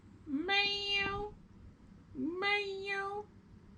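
A cat meows twice, two drawn-out, clear cries close by with a pause between them over a quiet indoor room.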